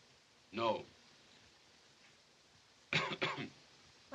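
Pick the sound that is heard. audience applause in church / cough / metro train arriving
cough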